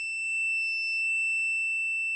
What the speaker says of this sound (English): We're beeping.